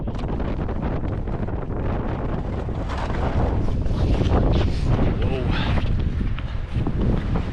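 Strong wind sweeping across a lake buffets the microphone in a steady, loud roar of rushing noise with gusty swells, close and unbroken throughout, with no clear talking.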